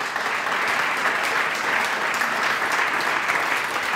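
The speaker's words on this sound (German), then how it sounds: "Bitte nochmal einen großen Applaus an die Gäste" A panel-discussion audience gives the guests a dense, sustained burst of applause, loud and even from start to finish with no talking over it.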